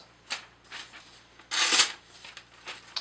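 A Zero Tolerance 0560 knife with an ELMAX steel blade slicing cardboard in a few short, crisp scraping strokes, one longer and louder cut in the middle, close and otherwise quiet.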